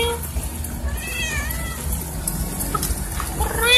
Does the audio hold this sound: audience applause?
no